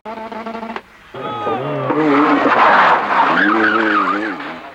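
A Renault 5 Turbo with a 1.4-litre turbocharged engine roars loudly and close, its pitch rising and falling through gear changes, with tyre squeal mixed in.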